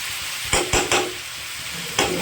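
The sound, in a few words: vegetables for pumpkin ghonto being stirred and fried in pan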